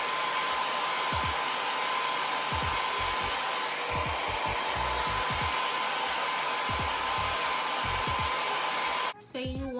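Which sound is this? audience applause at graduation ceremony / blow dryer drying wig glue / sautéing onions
blow dryer drying wig glue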